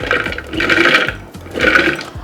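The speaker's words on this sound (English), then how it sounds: "So the next step is to blend our peeled beans." Peeled beans whir in a kitchen blender for akara bean cakes: loud, close motor bursts that swell and ease in pulses with a wet, churning quality.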